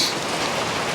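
Dense, steady hiss of heavy rain pouring down by the Cowlitz River, even and unbroken over a short stretch, with no voices.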